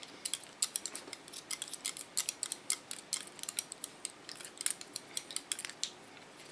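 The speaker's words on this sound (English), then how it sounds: "when I do this scissor overcomb I can get more character into the style I cut" Scissor-over-comb haircut on an asymmetric pixie, with rapid, steady snipping of scissor blades close by, dozens of light metallic cuts in an even rhythm and no talk.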